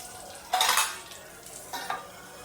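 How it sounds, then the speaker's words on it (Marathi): Two sharp bursts of sizzling as urad dal and curry leaves in hot oil are tempered for a chutney, the first louder and longer, the second brief, with quiet in between. "चटणीला तडका दिला की असं झाकून ठेवायचं"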